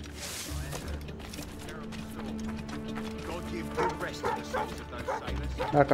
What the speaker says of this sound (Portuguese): Ah, cachorro, me deixa.